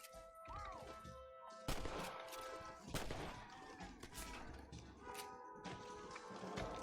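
Western gunfire in Red Dead Redemption, a handful of sharp, separate shots cracking out at irregular intervals amid ambient game sound, with no talking.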